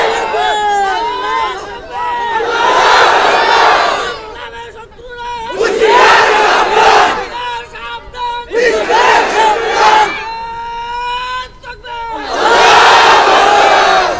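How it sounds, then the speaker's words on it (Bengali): A large crowd at an outdoor sermon rally chants the takbir in loud, repeated unison bursts of massed voices, each surge swelling and falling in a steady call-and-response rhythm with brief quieter gaps between chants. "তাকবীর দিল কেডা?"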